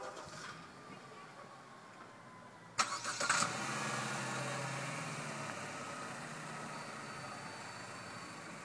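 A 2014 Chevrolet Cruze LT cranks briefly and fires up, then settles into a steady, fairly quiet idle heard from close by.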